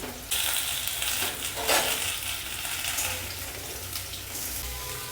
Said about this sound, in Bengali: প্রথমে আমি এঁচড়টা দিয়ে একটু ভেজে নিচ্ছি